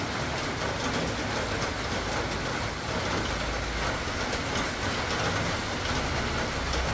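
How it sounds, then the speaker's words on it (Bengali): Heavy monsoon rain pours down as a loud, dense, unbroken roar of hiss and patter that continues steadily with no talk. "আর কি বৃষ্টি, কি বৃষ্টি।"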